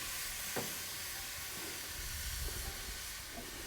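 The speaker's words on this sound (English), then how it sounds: "You hear that sizzle?" London broil sizzles in a hot pan, a steady crackling hiss that holds throughout with faint pops, and no one speaking.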